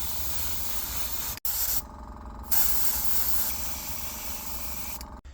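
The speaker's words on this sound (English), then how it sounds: "next we have to spray it with some brown." An aerosol can of brown spray paint sprays in long, steady hissing bursts with a few short pauses between them, close and fairly loud, coating a chicken-wire robin.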